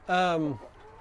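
An egg-laying hen on pasture gives a single short, harmonic cluck-squawk that is near and moderately loud, then fades into quiet outdoor background.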